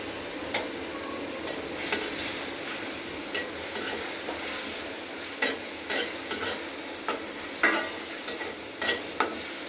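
Washed, cut prawns frying in a pan with a cooked-down spice paste, a steady bright sizzle with irregular sharp clicks of a spatula stirring against the pan, close and alone with no voices.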